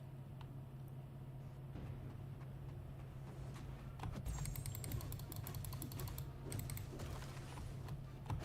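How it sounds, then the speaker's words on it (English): Soft computer mouse clicks come in a quick cluster midway through play of a mobile-style fighting game on a PC, faint and close, over a low steady hum with no talking. "let me know if you can hear my mouse clicks"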